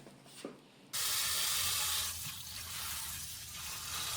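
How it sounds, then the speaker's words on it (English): A kitchen tap suddenly gushes on and keeps running steadily as green onions are rinsed under it, a loud, even hiss of spraying water with faint splashing changes and no voices. "first we wash and chop the green onions"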